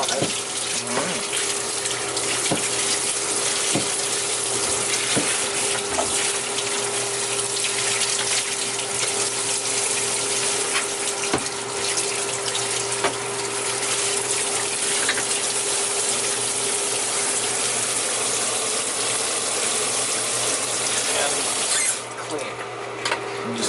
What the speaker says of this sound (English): Rinse off the circuit board. Don't leave any caustics under it or on it.